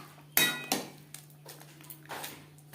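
Boneless chicken tipped into masala in a pan lands with a sharp metallic clatter, then a second knock and softer scraping clinks of a utensil, fairly quiet and close.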